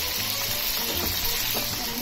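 Leftover oil from frying chicken sizzles loudly and steadily in a pan while a Bengali chicken roast curry is cooked, a continuous close crackle with faint stirring and no talk.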